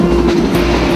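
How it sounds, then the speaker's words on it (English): Engine-hauled train rolling through forested hills in the Aravallis in India, heard as a steady, loud low rumble of wheels and running gear with no distinct clacks. "The engine slowly pulls the train through the most beautiful forests and hills."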